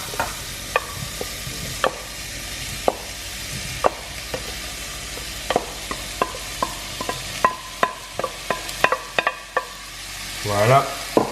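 Butternut squash and garlic sizzle in a pan while a spoon stirs them, and sharp scraping clicks come again and again over a soft, steady frying hiss.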